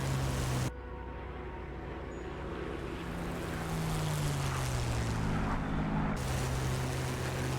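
A Spitfire in DCS World, flying with the cockpit open, produces a constant loud roar of wind rush and engine drone. A brief dip near the start is followed by a slow shift in the engine tone.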